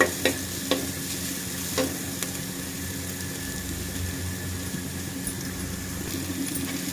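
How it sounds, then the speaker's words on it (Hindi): Onions frying to golden in a pan, a continuous close sizzle with a few sharp stirring knocks near the start, steady and unaccompanied by speech. "प्याज देखिए फ्राई हो गए हैं।"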